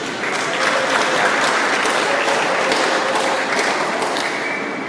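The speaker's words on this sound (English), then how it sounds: "why don't you give yourself another round of applause for this?" Parents at a 2018 preschool concert in Bukit Antarabangsa give a dense, continuous round of applause, steady and fairly loud across the whole stretch.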